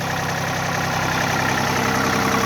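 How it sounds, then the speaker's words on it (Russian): A three-cylinder diesel engine on a 4WD mini tractor with about 661 engine hours idles steadily and close by, running normally, a continuous low rumble with an even throbbing knock and no one speaking. "Трактор агрегатирован трехцилиндровым дизельным двигателем. Как вы слышите, работает исправно."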